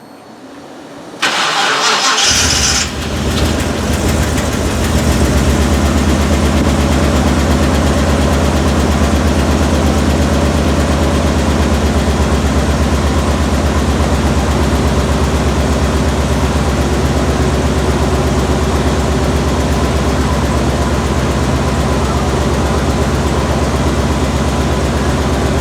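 A Chevrolet Suburban fitted with a new exhaust system cranks and catches after a moment of silence, then settles into a steady, loud, close-up idle that rumbles on evenly with no talking.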